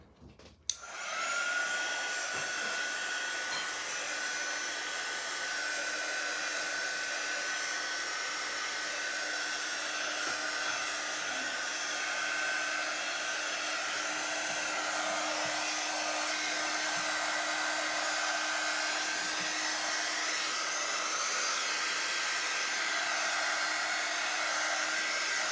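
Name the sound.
dryer drying the painting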